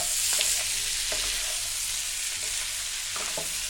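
Capsicum pieces added to onions frying in a pan for dry chilli chicken give a steady, close sizzle, with a few faint scrapes and taps of a spoon, and no voices.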